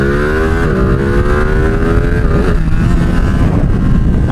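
A Ducati motorcycle's engine roars close and loud while riding, its pitch climbing then dropping sharply at a gear shift near the midpoint before settling into steady running under wind buffeting.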